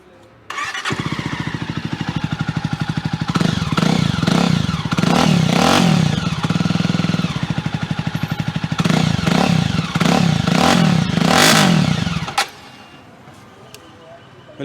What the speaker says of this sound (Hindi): This is how classic sounds.